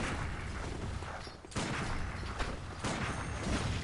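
An enemy in the Bloodborne video game fires a gun in a dense burst of loud, close gunfire and mechanical rattles, with a brief dip before the shooting resumes.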